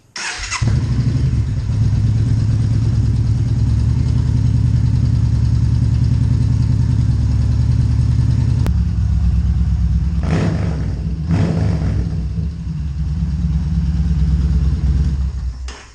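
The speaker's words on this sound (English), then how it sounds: "we're going to have to start the bike, let it run for a little bit" A motorcycle engine idles steadily up close, a deep continuous rumble, with a few brief revs rising over it near the end.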